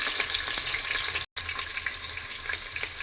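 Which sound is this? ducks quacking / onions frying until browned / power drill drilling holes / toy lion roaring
onions frying until browned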